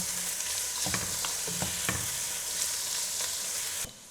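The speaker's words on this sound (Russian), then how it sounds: "Пока обжаривается лук, мы нарезаем картошку." Onion sizzles steadily in a hot pan, with a few scraping knocks as it is stirred, before the sizzle suddenly drops away at the end.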